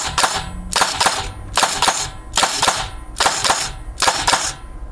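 Arcturus AK12 ETU airsoft electric gun firing in binary trigger mode: six evenly spaced sharp mechanical bursts, each a crisp snap with a brief motor whir, loud and close with no talk.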